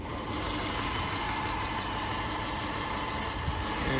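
Naturally aspirated 2.5 liter boxer engine of a 2005 Subaru Forester X idling with the hood up, a steady, even hum that stays level throughout, with no talking.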